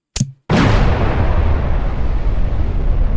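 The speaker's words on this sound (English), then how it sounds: "Now that was a good explosion, wasn't it?" A homemade bomb goes off with a short sharp pop followed by a loud, close blast whose broad rumbling roar sustains and slowly fades over several seconds.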